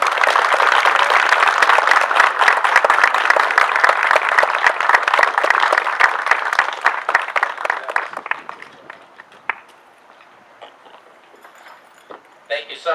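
An audience applauds after a poem recital, loud, dense clapping for about eight seconds that then thins to scattered claps and quiet room noise.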